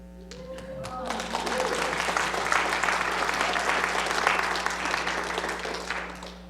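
An audience breaks into applause after a brief start, swelling into a dense, sustained round of clapping that fills the room and holds steady, with a faint voice near the beginning.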